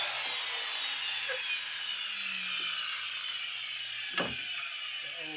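Hand saw cutting through wood for a cigar box guitar build, a steady close rasp running continuously with a brief sharper knock near the end.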